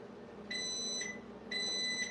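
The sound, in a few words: oven beeping when preheated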